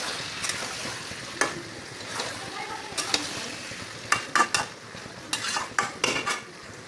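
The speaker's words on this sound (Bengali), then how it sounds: "মাংস কষানো হচ্ছে, তো কষানো প্রায় হয়ে গেল।" Chicken being sautéed down for kosha in a pan, a moderate sizzle beneath sharp metal spoon scrapes and clinks against the pan that grow busier toward the end, with no speech.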